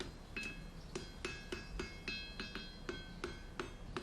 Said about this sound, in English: You use the anvil to mould the shoes. The hammer just pushes it into place.